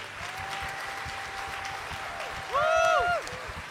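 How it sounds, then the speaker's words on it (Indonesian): A church congregation at a Sunday worship service breaks into loud, sustained applause that continues throughout, with a swell of worship music and sung notes rising over it near the end. "Berikan tepuk tangan yang paling dahsyat bagi Tuhan kita"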